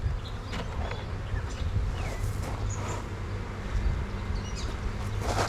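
Honeybees buzzing steadily around a hive as a colony is moved from a swarm box, a dense continuous drone of many wings close by with a few brief higher whines passing over it.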